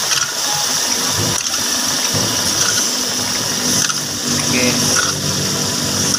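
A hand pump forces CVT transmission fluid into a 2021 Toyota Vios dual VVT-i. It makes a steady, loud, continuous churning and gushing noise, with a brief spoken word over it.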